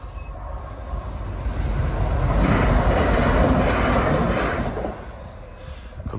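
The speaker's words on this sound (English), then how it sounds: "There's a train coming, Trans-Pennine." A Trans-Pennine passenger train rumbles past at Batley, swelling to a broad loud roar at its closest and then fading as it moves away.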